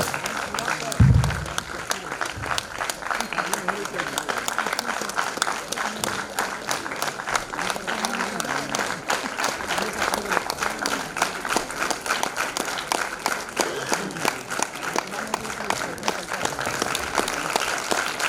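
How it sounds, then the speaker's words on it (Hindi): Children in an auditorium applaud loudly and steadily, a dense, sustained wash of clapping that stays at an even level from start to finish with no pauses. "और तेज तालियां बच्चों, पूरा ये ऑडिटोरियम घुस जाना चाहिए आपकी तालियों से"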